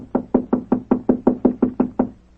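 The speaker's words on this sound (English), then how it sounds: "I'll knock again." Knocking on a hotel room door at the Carlton Hotel, about ten firm, evenly spaced raps in a steady rhythm, close and clear with no talking.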